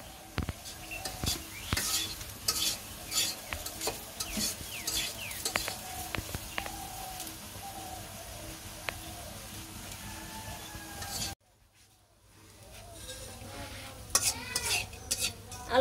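Potatoes fry and sizzle in a pan while a utensil stirs them in repeated scraping strokes, close and steady. The sound drops briefly near the end before the stirring resumes.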